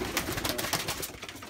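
A rare German pigeon breed, shown at a pigeon exhibition in France, gives soft rhythmic cooing, several repeated throaty coos close by, with no talk.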